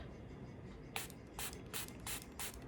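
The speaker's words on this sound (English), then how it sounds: "So I'm just gonna spray it and check." Four quick hissing sprays from a WOW Skin Science coconut water facial mist bottle, evenly spaced over a faint steady background hiss.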